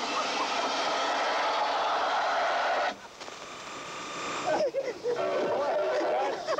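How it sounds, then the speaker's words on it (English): A train rumbles past with a loud, steady roar, then drops away abruptly and leaves a quieter mix of rattling and faint voices. "Oh, you got a train coming."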